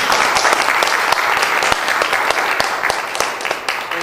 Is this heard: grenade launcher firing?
no